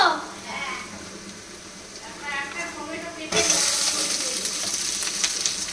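Onions frying in a pan at home, starting as a faint sizzle beneath people talking, then jumping to a loud, steady, close hiss for the last few seconds.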